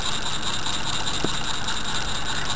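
A running Stirling heat engine turns its flywheel, crank and conrods, producing a steady, continuous mechanical whir with a fine ratcheting click throughout and no voices.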